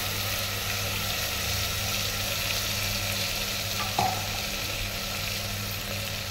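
A ground paste of ginger, tomato and chili fries in a pan with a loud, steady, close sizzle throughout, broken once by a brief utensil knock, with no talking.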